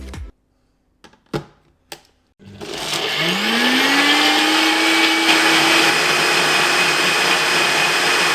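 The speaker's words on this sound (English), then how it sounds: "Now we want to blend this to a lovely pulp." A kitchen blender whirs loudly as it purées fresh Indian-style mint and chilli chutney sauce, starting after a few knocks and then climbing in pitch into a steady, close, continuous roar.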